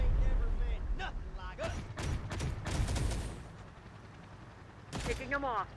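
Bursts of gunfire crackle in the Terminator: Dark Fate - Defiance video game, several rapid volleys at mid distance mixed with voices and game effects.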